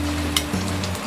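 Vegetables (beans, capsicum, cauliflower and tomato) sizzling and frying in a pan while being stirred for masala rice, a steady close hiss with brief scraping stirs and no talk.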